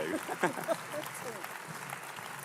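Applause from the audience at a Liberal Democrats conference, scattered clapping heard under a voice speaking over it.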